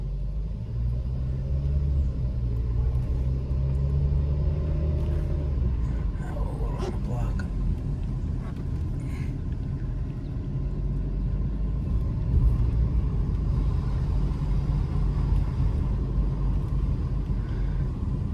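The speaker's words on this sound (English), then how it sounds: "Okay, we're going to do the test drive now." A cold Kia Soul with a 1.6L engine running on a test drive, heard as a steady low rumble of engine and road noise from inside the car, continuous throughout with faint interior rattles.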